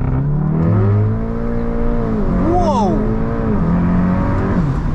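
Interior of a 400hp VW Golf R under hard launch-control acceleration, a loud steady engine drone with rising and shifting tones as it pulls through the gears.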